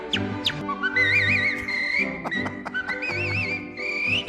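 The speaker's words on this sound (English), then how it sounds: "It's whistling." A man whistles a tune with melodic, wavering pitch and vibrato over musical accompaniment, close and clear. The performer, a famous whistler, is heard on a recording.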